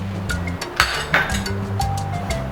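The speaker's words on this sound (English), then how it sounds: "And I have some ice cubes." Ice cubes clink against each other and the container as they go into a breakfast smoothie with oat milk and avocado, giving a few bright, close taps over a steady low hum.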